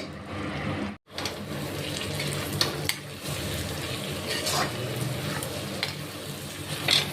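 Beans and potatoes with masala cooking on a medium gas flame give a steady close sizzle with stirring scrapes throughout, broken by a brief pause near the start; no talk.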